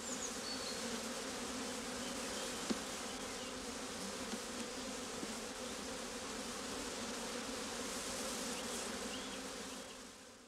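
A dense, steady hum of many Buckfast bees buzzing close by on a hive frame, continuous and even throughout with no voices.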